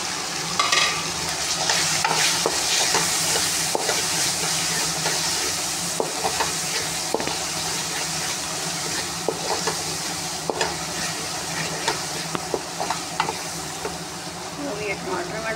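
Chicken with ginger, garlic and green chili paste fries in a pan as spices are stirred in, a continuous close sizzle broken by scraping stirs and light utensil clinks, with faint talk in the background.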